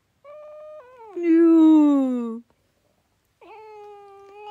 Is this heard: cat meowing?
yes